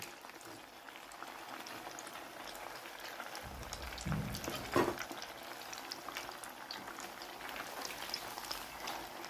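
Food pieces dropped one at a time into medium-hot oil for a quick recipe, giving a steady crackling fry with a brief louder burst partway through.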